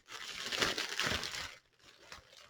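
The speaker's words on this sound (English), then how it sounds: "So I slice and dice it." A knife slices plastic wrap off a large box with a continuous crinkling, scraping rustle that runs close and fairly quiet for about a second and a half, then fades into faint handling noise.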